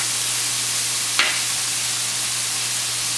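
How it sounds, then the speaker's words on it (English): Onions sautéing in a pan with a pinch of salt, a loud continuous sizzling hiss close up, with one brief stir partway through. "what I find helps with sauteing onions is to just add a little bit of salt at the beginning"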